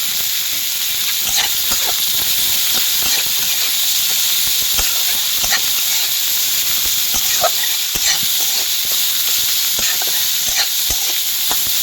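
Garlic fries in a hot pan with a constant close sizzle, broken by frequent light scraping and stirring clicks throughout.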